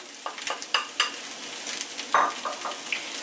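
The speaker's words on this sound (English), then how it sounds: "Now, we're going to add our corn, leftover corn." Leftover corn tossed into a hot pan with other turkey leftovers, giving a crackling sizzle and a series of stirring scrapes and clatters, close and without talk.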